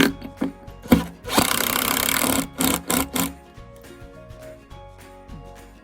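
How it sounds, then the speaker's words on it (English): A power drill drives screws into wood, giving short whirring bursts and a longer sustained buzz between pauses, fairly close and moderately loud, with no talking. "Drive those screws in."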